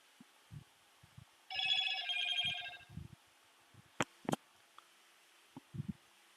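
A mobile phone rings once in a short melodic burst of about a second, clear and fairly near, surrounded by quiet scattered knocks and clicks in an otherwise hushed room.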